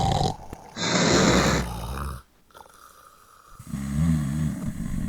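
Two loud snores from sleeping men, each a long rasping inhale with a throaty rattle, separated by a short quiet gap, close and with no talking.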